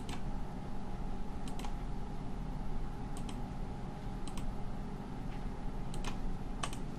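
Sharp, faint clicks of a computer mouse sound in small clusters during 3D spline modeling of a gun arm, over a steady low room hum with no talk.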